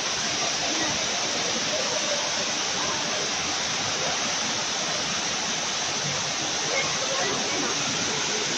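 An indoor waterfall in the Cloud Forest dome at Gardens by the Bay pours in a steady, loud, broadband rush with no breaks, a constant close roar of falling water filling the whole space.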